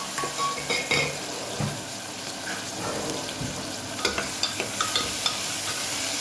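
Cumin, asafoetida and potato pieces dropped into hot oil in a pan, sizzling steadily while a spoon stirs and clinks against the metal, with a few sharp scraping taps near the end.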